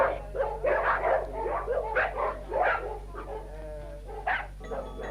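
A boxer dog barks in a string of sharp, close bow-wows, roughly eight barks in uneven bursts over five seconds, with a brief whimpering yip near the end.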